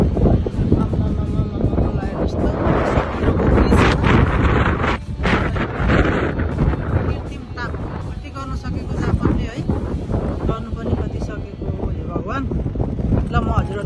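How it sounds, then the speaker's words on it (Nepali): Steady wind gusting across the microphone out at sea near Umi Hotaru in Chiba, with a low rumble of a moving ship and people talking throughout. "हल्का हावा समुद्रको बिचमा भनेपछि हावा त लाग्ने नै भयो"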